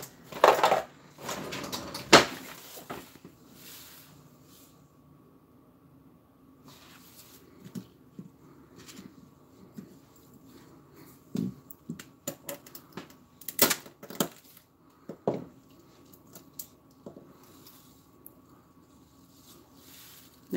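Knife cutting through a candied strawberry with a hard candy shell, sharp close cracks and crunches near the start and again midway, scattered with quieter taps and scraping between them.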